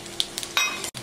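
Mustard seeds, cumin and green chillies frying in hot oil in a home kitchen, giving a steady close sizzle with a few sharp crackles and pops, broken by a brief gap near the end.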